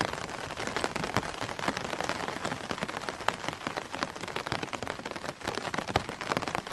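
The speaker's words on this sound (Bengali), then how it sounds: "আর কানে ভেসে আসছে শুধু ছাতায় পড়া ফোঁটা ফোঁটা পানির আওয়াজ" Raindrops patter steadily on an umbrella along a bushy roadside at night, a dense, continuous drumming of many drops with no voices.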